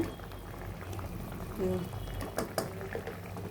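A pot of drumstick and tomato curry with lentil vadiyalu bubbling on the stove: a close, low burbling simmer with occasional sharper pops and clinks, and a voice faintly present.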